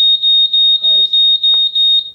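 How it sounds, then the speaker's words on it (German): A VisorTech wireless networked smoke detector sounds its loud 85-decibel alarm in a rapid, steady series of piercing beeps, close and dominant, with a brief voice-like murmur partway through. "Lebensretter schlägt bei einer gefährlichen Rauchentwicklung sofort Alarm. Und das mit praktisch unüberhörbar lauten 85 Dezibel."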